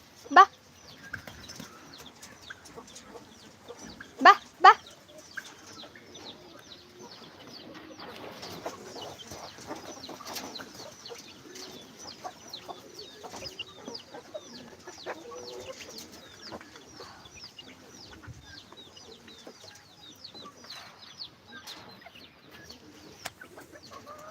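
Turkey hens and other poultry cluck and call in a farmyard, scattered calls near and far over a low background, with a person's voice speaking at times and a few sharp louder noises near the start.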